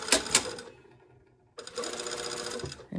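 A sewing machine stitches a side seam in two bursts of rapid, even mechanical whirring, separated by a short quiet pause.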